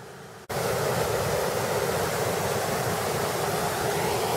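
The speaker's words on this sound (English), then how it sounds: "this lovely waterfall is in fact drainage water which is pumped out through from the local quarries" Woodland waterfall fed by drainage water pumped from local Somerset quarries roars as a loud, dense, continuous rush of falling water that starts abruptly after a brief quieter moment and holds unchanged.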